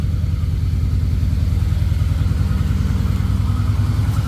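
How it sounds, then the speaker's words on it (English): A BMW E36 357is with a swapped-in 5.7 LS V8 and a leaking exhaust idles with a steady, loud, rhythmic low burble, unbroken and with no voices. "Right now it's just like normal exhaust."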